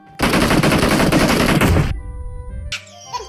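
Rapid burst of automatic gunfire in a video game, loud and dense for nearly two seconds before cutting off, followed by quieter game sounds.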